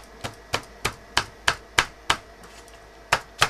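A hammer taps on a Mauser rifle during a field strip, about ten sharp, close metallic knocks in a fairly even rhythm, each decaying quickly, with no talking.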